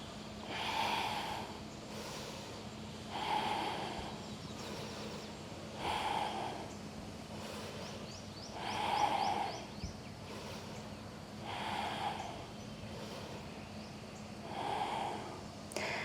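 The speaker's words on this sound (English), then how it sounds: "So follow your breath. Inhale as you lift, exhale down." Slow, steady breathing during a yoga flow, with long inhales and exhales repeating about every three seconds, close and soft against a quiet room.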